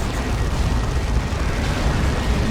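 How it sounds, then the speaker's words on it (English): A plasma cannon fires in the Dawn of War 2 strategy game, a dense, loud, roaring blast that fills the whole moment with battle noise and no voices. "Big plasma cannon shot."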